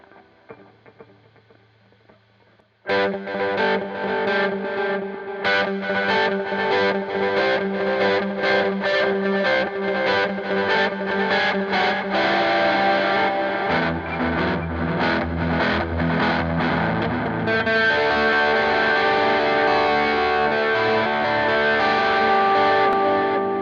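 A distorted electric guitar plays a repeated rhythmic pattern with echoing delay trails, sustained and loud after a brief quiet start.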